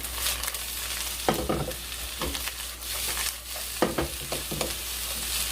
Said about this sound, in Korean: 불을 끄고 잔불로 고추하고 한번 섞어 보겠습니다.